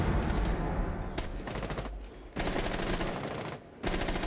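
Rapid automatic gunfire in the tactical shooter Rainbow Six Siege, loud and dense bursts filling most of the stretch with two brief pauses between volleys.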